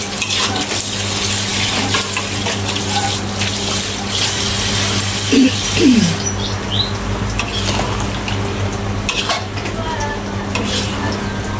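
Squid sambal with tamarind water and onion sizzles and fries loudly in a pan while it is stirred, a continuous hiss with scraping stir strokes and a couple of brief knocks near the middle, and nobody talks.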